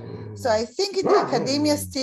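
A dog barks and yips in a few short bursts close to the microphone, mixed in under a woman's speech at an online talk.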